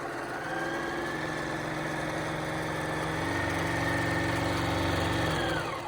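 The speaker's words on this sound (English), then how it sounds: "So I'm going to sew down, leaving that open." A sewing machine stitching the seam of a quilted Christmas stocking runs in one steady, continuous mechanical whir, close and even-paced throughout with no talking.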